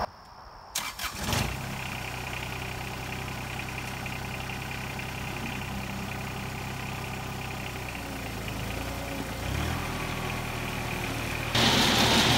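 A tractor engine with a new battery turns over and catches after a brief start, then idles steadily with a constant low rumble, close by, revving slightly louder near the end.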